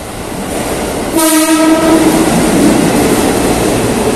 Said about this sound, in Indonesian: Nah, ini ada kereta, dia ke Cikarang atau Bekasi via Kampung Banten.